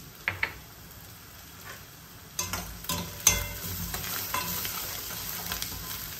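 Onions sizzle in a hot pan for a Tamil crab curry, a steady frying hiss broken by a few clanks and scrapes of a spoon stirring.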